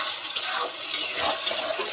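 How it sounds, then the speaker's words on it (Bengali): Spice paste of onion, cumin and coriander with tomato sizzles in a pan for a Bengali fish curry, a close steady hiss with scraping stirs and a couple of sharp spatter pops. "মশলাটা কষিয়ে নেবো।"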